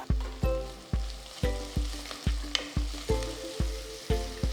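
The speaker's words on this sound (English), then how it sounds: "Next to this I'm going to add 2 medium-sized onions thinly sliced" Thinly sliced onions frying with whole spices such as bay leaf, a crackling sizzle broken by regular thudding pulses roughly twice a second, close and fairly loud.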